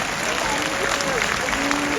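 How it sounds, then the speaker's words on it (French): An audience applauds during a mayor's New Year address in Belfort, a loud, dense wash of clapping heard up close, with a voice faintly audible underneath. "Oui, on peut applaudir."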